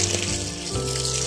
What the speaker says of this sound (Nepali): यसरी चाहिँ गुटुङ टुङ टुङ टुङ पानी आउँछ